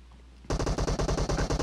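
Automatic gunfire in the PUBG Mobile zombie mode: after a short quiet lead-in, loud, rapid bursts of shots rattle off one after another in a steady, close rhythm with no talking.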